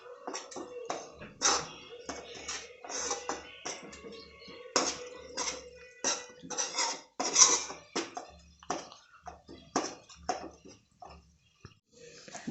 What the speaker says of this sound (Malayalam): നന്നായിട്ട് നമുക്ക് മസാല അങ്ങോട്ട് ഇളക്കി അങ്ങോട്ട് കൊടുക്കുക.